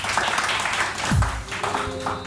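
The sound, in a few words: studio audience applause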